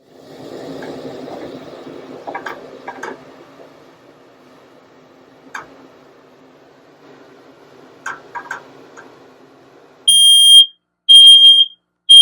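Low background noise and scattered clatter give way to a shrill electronic smoke alarm in a Dynamax Isata 5 RV, set off by cooking, sounding in three loud, piercing bursts near the end.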